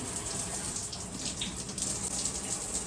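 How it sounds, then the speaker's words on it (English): Shower water pouring steadily while sugar scrub is rinsed off skin, a continuous close hiss and spatter with slight changes as the body moves under the stream, no talking. "when you're rinsing, you want to rinse downward and into the shower or into your bathtub"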